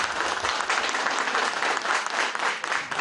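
Algerian journalists at a press conference in Douala applaud steadily and densely for a few seconds, a close, continuous patter of many hands with no speech.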